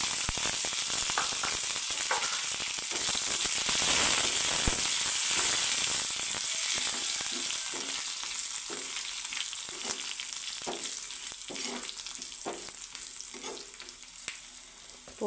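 Garlic, dried red chillies and curry leaves crackling in hot tempering oil for pappu charu, a loud, dense sizzle that thins into scattered sharp pops and spits, close and without talk.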